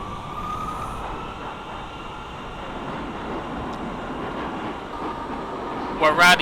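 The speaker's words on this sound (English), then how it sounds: "This is a Brooklyn-bound A express train." A New York City subway R179 car on the A express, simulated in OpenBVE, rumbles steadily at close range with a constant broadband roar and a faint tonal whine, and a brief sharper burst near the end.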